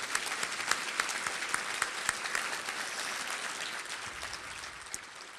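Steady applause from an audience at a State of the County event, greeting the county commissioners; dense, even clapping fills the room at a moderate level for several seconds without speech.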